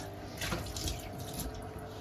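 Water running from a newly bought water purifier into a vessel, a steady splashing flow close by for a couple of seconds.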